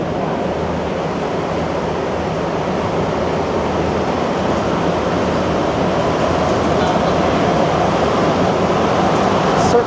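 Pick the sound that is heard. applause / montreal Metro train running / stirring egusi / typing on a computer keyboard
montreal Metro train running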